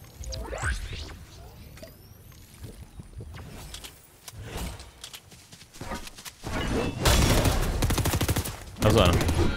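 Bursts of rapid gunfire crackle in a game, growing louder and denser toward the end, with hoofbeats and a voice speaking at times.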